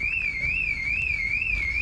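A Toyota Supra MK4 car alarm sounds continuously and fairly loudly, a steady piercing tone warbling up and down in a regular cycle roughly every half second, heard alone with no one talking.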